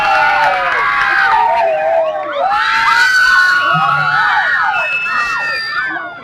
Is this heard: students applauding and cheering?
yes